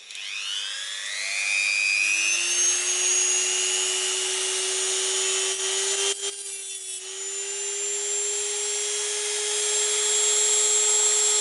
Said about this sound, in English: I insert the tool in here, and then Dremel starts